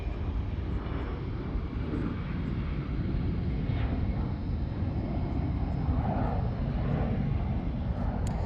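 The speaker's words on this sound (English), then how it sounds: "This one here arriving from San Francisco, American 867, a 9-year-old A321." A nine-year-old American Airlines A321 jet arriving at Charlotte airport, a steady broadband engine rumble heard from a distance with faint wind buffeting.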